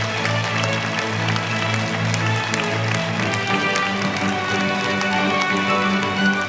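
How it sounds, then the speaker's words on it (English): A large conference audience claps steadily in a dense, sustained round of applause that continues throughout. "Let's give him another big round of applause."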